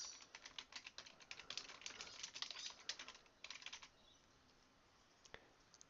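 Rapid keystrokes on a computer keyboard while a title is entered, a dense run of close clicks for about three seconds, then a few scattered taps in a quiet room.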